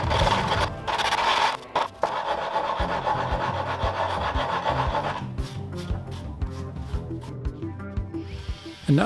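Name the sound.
wood carving with rotary carving discs and bits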